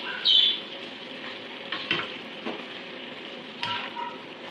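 Squid frying in a pan while being stirred, a steady soft sizzle with occasional scraping clicks and a few faint chirps on top.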